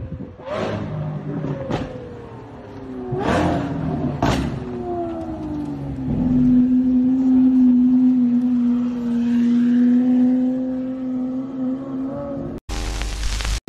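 Custom car engine revving hard with several sharp backfire bangs early on, then a loud sustained droning engine tone that fades slightly before an abrupt cut.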